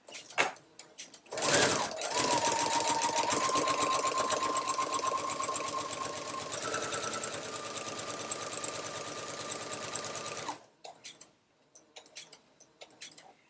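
Sewing machine with a walking foot stitching through layers of a quilt, one steady fast mechanical run of roughly nine seconds with a slight change in pitch partway, between a few light clicks and handling noises.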